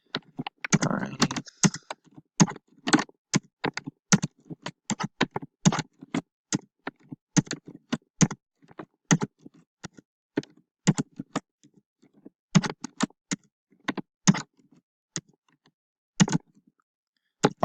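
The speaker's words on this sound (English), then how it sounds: "I'm just going to press anything on the keyboard and just enter some numbers" Numbers typed on a computer keyboard, a long run of crisp, close key clicks in quick bursts separated by short pauses.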